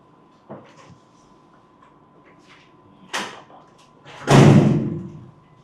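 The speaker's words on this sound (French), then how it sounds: "Poussez la porte." A door is pushed open in an office, with a few light knocks and clicks before a louder thump and a final heavy bang as it swings, no speech over it.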